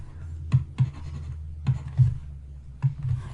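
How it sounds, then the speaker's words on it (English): A pen writes on paper in a quiet room, making short scratchy strokes with soft taps at irregular intervals, close and fairly faint, with no speech. "let me write in this way now"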